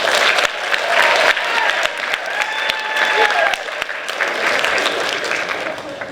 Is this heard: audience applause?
yes